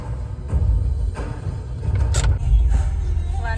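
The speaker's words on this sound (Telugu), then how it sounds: "ట్రాఫిక్ చూడండి ఎట్లుందో" Road traffic near Begumpet Airport in Hyderabad, with a close, steady rumble of car engines and a few brief clicks and rattles.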